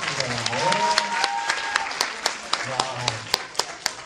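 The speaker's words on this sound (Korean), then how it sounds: "네, 박수 잘하셨습니다." An audience at a Christian camp lecture claps along, with sharp individual claps standing out rhythmically over singing voices and a sustained tune, moderately loud and close.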